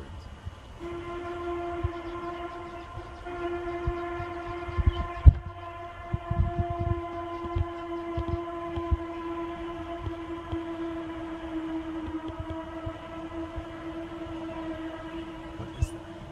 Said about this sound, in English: What is that? It sounds like a train